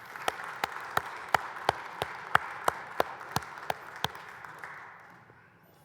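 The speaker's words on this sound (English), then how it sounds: "Let's give them a hand clap." A church congregation claps for the choir after a service song: a slow, evenly spaced series of about fifteen distinct, fairly loud claps over quiet room tone, fading out near the end.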